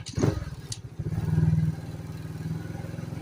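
A cub motorcycle drops down into first gear, its small engine putting out a rhythmic, pulsing putter that swells briefly, then settles to a steady lower throb, close by and alone.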